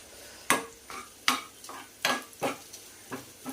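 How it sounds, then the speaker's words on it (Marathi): Cumin seeds, peppercorns and two cut dry red chillies roast in ghee in a pan, heard as repeated rhythmic scraping stirs over a soft steady sizzle, close and fairly loud with no talking. "ताजे नंतर तातूंत जिरी घालता आणि मिरया कण घालता आणि तशीची 2 सुकी मिरसांग कट करून घेनो घालता आणि ते भाजून घेवया"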